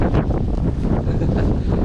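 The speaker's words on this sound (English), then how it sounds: "It's crazy, the wind is crazy." Strong wind gusting around 20 mph on a forest trail buffets hard against the microphone, a loud continuous low roar with rising and falling gusts.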